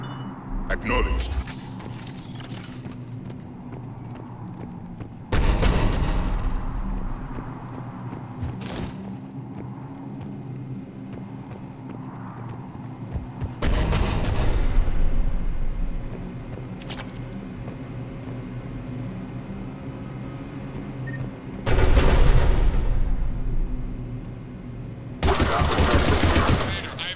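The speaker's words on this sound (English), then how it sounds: "The cannon fire is clearing the way." Heavy cannon fire in Mass Effect 3 booms in a few loud, widely spaced blasts and bursts over a low rumbling battle din, with voices talking in between.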